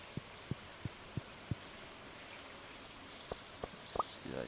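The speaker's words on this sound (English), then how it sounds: "It'll be clear and sunny, but raining on the island." Rain falling in Stardew Valley, a soft steady patter with a series of distinct drip-like plinks at regular intervals, quiet and alone.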